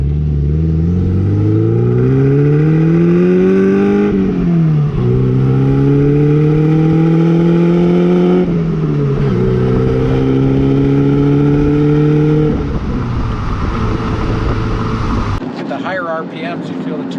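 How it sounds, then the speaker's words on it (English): A 1986 Porsche 944 Turbo with a 2.5-liter turbocharged four-cylinder pulls hard through several gears, engine pitch climbing steadily then dropping at each shift, loud from inside the cabin, with a voice talking over it. "you feel the turbo spool up and start to grab"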